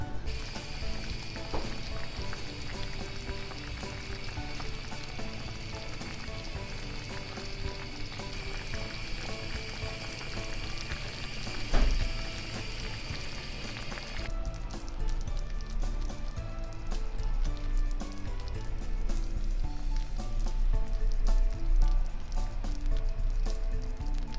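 A potato and minced meat dish cooks in butter in a pan on the stove, giving a steady, moderately close sizzle and bubble that runs without pause, with music playing underneath.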